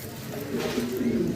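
A pigeon gives a short, soft cooing call at close range, low and throaty, lasting just over a second with faint background noise.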